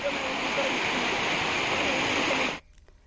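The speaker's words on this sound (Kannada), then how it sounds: "ಎಲ್ಲಿ ನೋಡಿದ್ರು ನೀರು ರಭಸದಿಂದ ಹರಿತಾ ಇರೋದು ಕಾಣಿಸ್ತಾ ಇದೆ" Floodwater rushes loudly and steadily after heavy rain in Karnataka, a dense continuous roar that cuts off abruptly near the end, leaving near silence.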